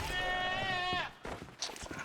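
A single drawn-out sheep bleat in the game Enshrouded, loud and close, lasting about a second, followed by soft thuds and rustling game sounds.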